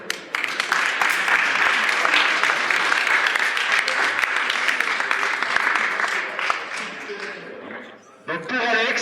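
An audience at a comic-book festival bursts into sustained, dense applause that fills most of the stretch before fading out, with a voice speaking briefly at the end.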